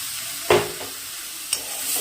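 Taro leaves tossed into grated coconut frying in a pan, two distinct stirring scrapes over a steady close sizzle, with no one talking.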